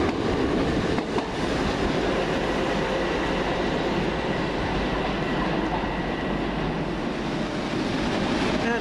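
A Class 377 Thameslink train rumbles steadily at close range at Farringdon station, a continuous low roar of wheels and motors with no voices, as if passing or idling beside a platform.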